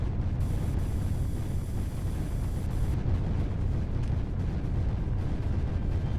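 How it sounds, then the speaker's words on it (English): Mortar fire in the strategy game Creeper World 3, a steady low rumbling wash of blasts that holds a constant loudness throughout, with no talk. "There goes another mortar."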